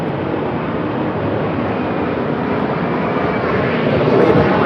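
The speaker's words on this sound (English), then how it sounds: "I got the plane over my head." A fixed-wing airplane passes overhead outdoors, a steady loud broadband engine roar that fills the whole stretch and swells slightly toward the end, with no other clear sounds over it.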